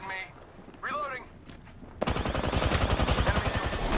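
Rapid gunfire bursts out in a Call of Duty match, loud close automatic fire rattling continuously after a short stretch of quieter game sounds and a faint voice.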